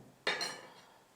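A spoon stirring a spiced beef liver mixture in a pan, one sharp scrape and clink that fades quickly, close and fairly quiet.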